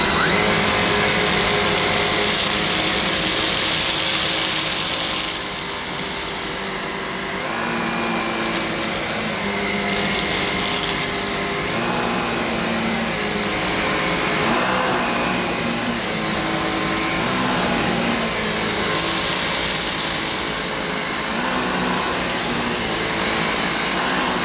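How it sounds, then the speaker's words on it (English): A Dyson V6 Fluffy cordless vacuum cleaner runs on its normal setting with a steady, loud, high whine and airy rush that holds for the whole stretch, with small dips as it moves. "So I'm going to start on the normal setting, not maximum, just the regular setting, which gives the longer running time."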